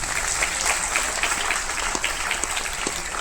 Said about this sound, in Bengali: জন্য একটা ভালো করে হাততালি দিন